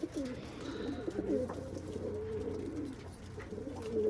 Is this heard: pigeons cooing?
yes